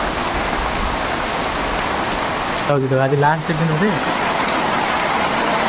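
Steady rain falling on Dussehra, a dense, even hiss of drops pattering on surfaces, loud and continuous throughout, with a voice speaking briefly over it midway.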